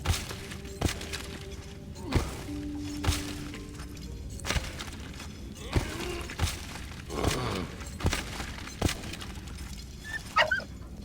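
Dog barking in the Valiant Hearts World War I game: sharp single barks recur every second or two over about eleven seconds, loud and near, mixed with thuds and a brief whimpering yip, with no talking.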